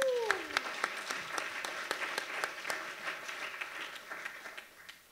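Applause from a small audience after a stage performance, a moderate patter of clapping with sharp individual claps standing out, gradually thinning toward the end; a voice is briefly heard at the start.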